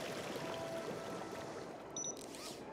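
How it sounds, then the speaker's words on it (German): Water spraying in the video game Beyond a Steel Sky, a steady faint hiss and trickle running throughout with no talk over it. "Beginne Sprühvorgang."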